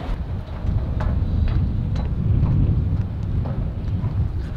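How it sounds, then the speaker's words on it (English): Wind gusts across an outdoor lake shore during a bass fishing trip, a constant low rumbling buffet on the microphone with faint scattered knocks, with nobody speaking. "A little bit windy out here today."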